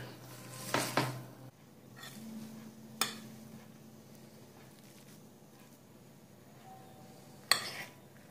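Antakya kısır salad is mixed in a bowl with a utensil, giving a few sharp clinks and scrapes spaced seconds apart between quiet soft stirring, fairly close and faint overall.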